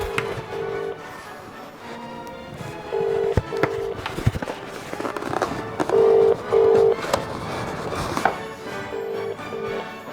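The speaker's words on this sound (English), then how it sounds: "I need to make a phone call." A telephone call being placed: short repeated dial or ringback tones in regular pairs, fairly clear over a busy indoor background with scattered knocks and clatter.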